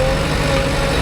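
A tractor engine runs steadily during lake soil loading alongside a JCB 3DX, producing a dense, loud, continuous diesel drone with a constant whine on top.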